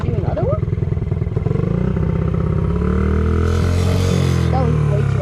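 A friend's small mini bike engine revs hard during a wheelie, a buzzing tone that climbs and holds steady up close, with a voice talking over it at the start and end.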